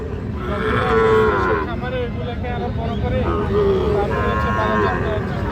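Cattle moo at a livestock market where Shahiwal heifers are being bought, the low drawn-out calls rising loud and close several times over a busy crowd murmur, with people talking nearby.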